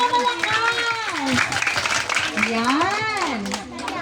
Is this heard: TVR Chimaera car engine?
no